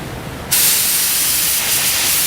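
A distressing tool sprays liquid onto a sample in one sudden, loud, steady hiss that starts abruptly and runs close and continuous to the end, with no talking.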